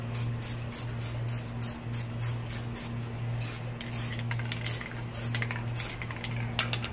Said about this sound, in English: Take your white, and you're going to spray on the edge of the lid here.